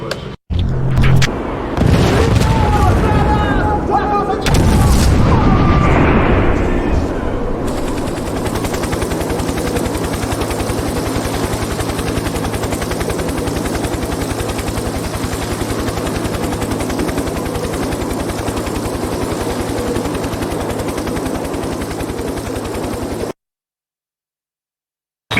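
Explosions, helicopter rotor and machine gun fire from a Project IGI cutscene: loud bursts and booms in the first seconds, then a steady, dense drone of rotor and rapid gunfire that continues until it cuts off near the end.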